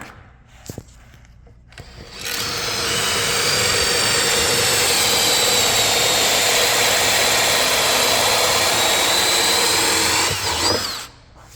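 A power tool bores holes through an MDF arcade control panel with a loud, steady whine that starts after a few light knocks, holds for about eight seconds and then spins down.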